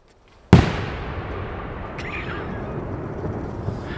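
A New Year's Eve firework mortar shell launches with one sharp, loud thump, then a long crackling, hissing tail and a faint pop later on.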